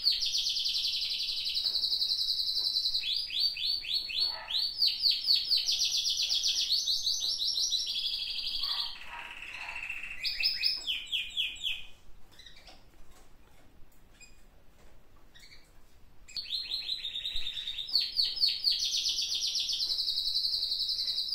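Small caged birds, lovebirds among them, chirp and tweet in dense, continuous overlapping bursts, loud and close, with a brief quieter lull midway before the chatter swells again.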